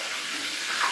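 Crab sticks deep frying in hot oil, a steady, even hiss and crackle with no voices over it.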